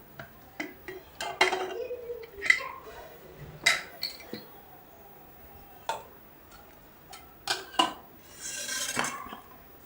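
Metal clanks and clinks sharply as a container of steamed rice-flour dough is lifted out of a pressure cooker, several separate knocks spaced irregularly in a quiet room.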